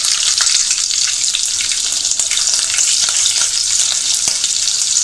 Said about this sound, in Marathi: आपली मोहरी आपण मिरच्या टाकूया.